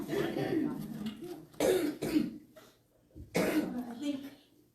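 Coughs and throat clearing from a congregation during a Sunday church service, three short bursts spaced across a few seconds, close and fairly loud, with a faint voice between them.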